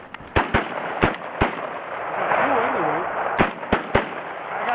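Shotguns fire during a goose hunt, with roughly seven sharp, loud blasts in irregular bursts and a voice talking in the middle of the sequence.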